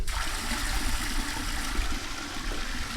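Steady rushing water runs continuously from a tap, a dense even hiss with no pauses or voices.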